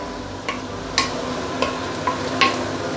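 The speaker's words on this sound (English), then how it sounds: "And I'm going to add in some light soya sauce from Sanho." Light soy sauce hits a hot pan while cooking drunken chicken with dang gui, giving a steady sizzle broken by a few sharp clicks and stirring taps, with no talk.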